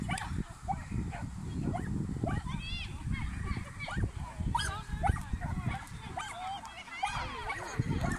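A dog whimpers and yips excitedly at close range. Its small, high cries are scattered through the clip under steady talking from people encouraging it.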